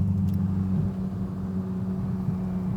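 BMW Z4 M Coupe with the naturally aspirated S54 engine holding steady at about 4,000 RPM, a loud, even, throaty drone with a low rumble and no talking.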